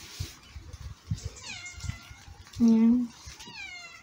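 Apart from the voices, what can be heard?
cat meowing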